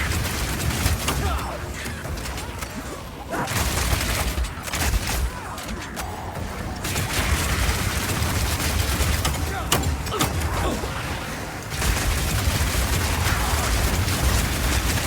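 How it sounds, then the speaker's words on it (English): Crossbow launching explosive grenades in the game Path of Exile 2, with fire damage added while the weapon is heated: a dense, continuous run of loud shots and blasts rattles on for about fifteen seconds with barely a pause. "when the crossbow is heated up, it adds extra fire damage to any grenade that you launch"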